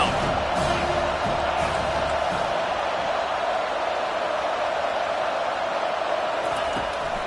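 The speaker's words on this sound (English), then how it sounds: "Decibels rising as the crowd gets behind this defense on 3rd down." At a football stadium, the crowd roars behind the defense on third down, a loud, sustained wall of cheering that holds steady from start to finish.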